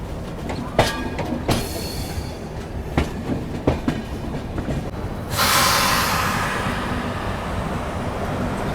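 The Hatia-Puri Tapaswini Express pulls into Puri station, its wheels clattering over rail joints in an uneven rhythm, close and fairly loud, joined by a rushing hiss near the end.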